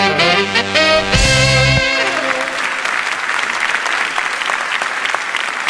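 Studio audience applauding at a live radio broadcast in Le Havre for the Transat Jacques Vabre departure, a sustained burst of clapping that rises after a sung jingle and continues steadily.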